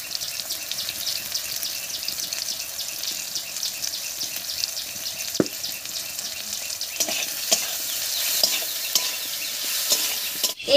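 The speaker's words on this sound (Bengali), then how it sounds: "বেগুনটা বেশ লাল করে ভেজে নিয়েছি" Brinjal frying in oil, a bright steady sizzle with frequent stirring scrapes and a few sharp knocks, close and even in level, no talking.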